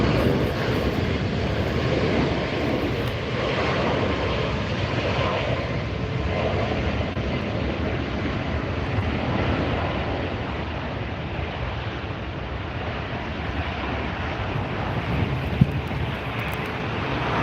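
Steady roar of a Southwest jet airliner taking off at LAX, heard from a distance, broad and rumbling, mixed with gusting wind noise against the microphone throughout.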